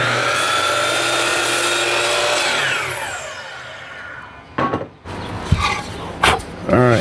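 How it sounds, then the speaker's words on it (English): A miter saw spins down after cutting wood, its whine fading over a few seconds, followed by several sharp clunks and knocks of the wood being handled nearby. "I'm going to get this cut over at the miter saw."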